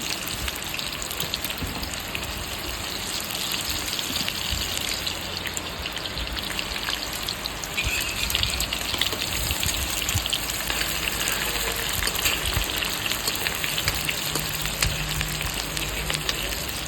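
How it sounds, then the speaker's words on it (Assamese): Chopped onion and bay leaves drop into hot oil in a pan, giving a steady, loud, dense sizzle and crackle that holds unbroken throughout with no talking. "তেল গৰম হৈ গ'ল, পিঁয়াজ দি দিছোঁ। তেজপাতখিনি দি দিছোঁ।"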